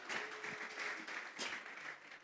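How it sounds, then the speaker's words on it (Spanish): A church congregation claps together as an offering to God, a dense, fairly distant patter of applause lasting a couple of seconds with slight swells, no voices over it. "Vamos a regalarle ofrenda de palmas al Dios de la gloria"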